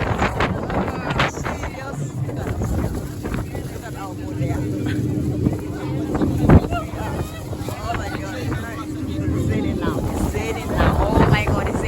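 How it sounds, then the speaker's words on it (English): Strong wind buffets the microphone on a tour boat in Copenhagen, Denmark, in bad weather, with engine and water rumble underneath and people talking throughout. "It is quite windy today, but we are on a boat for 1 hour."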